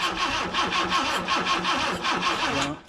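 An old car engine cranks over in a steady rhythmic chug, each stroke pushing against compression, without catching, then cuts off at the end.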